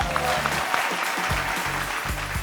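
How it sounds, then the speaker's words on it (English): A crowd applauding steadily, dense clapping throughout with a low rhythmic thumping beat running underneath. "Massive round of applause"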